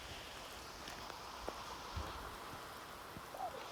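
Steady rain falls in Mendarda at a Khodiyar Mata shrine, a soft, continuous patter heard quite faintly, with a few light knocks and taps scattered through it.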